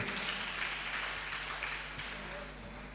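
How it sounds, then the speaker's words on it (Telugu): A church congregation claps loudly together during a Telugu worship sermon, a dense, steady wash of applause that fades slightly toward the end, with voices mixed in. "గట్టిగా చప్పట్లు కొట్టండి"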